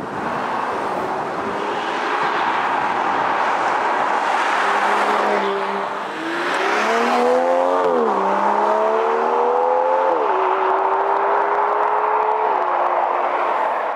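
The front-mounted V12 engine of an Aston Martin DBS Superleggera Volante convertible roars loudly and raucously, its pitch rising and dipping as it revs through gears, with a brief drop in sound midway.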